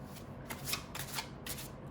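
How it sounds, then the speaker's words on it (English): Tarot cards shuffled by hand before one is drawn for a weekly reading, a soft rapid riffling in several quick pulses, faint and close with no speech. "let me pull one more card for you"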